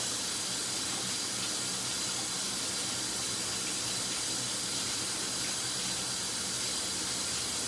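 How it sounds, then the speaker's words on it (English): Country ribs rinsed under cool running water in a kitchen sink, a steady, even hiss of flowing water that continues unbroken throughout, close by and with no one talking. "So you hear my sink, I'm rinsing these"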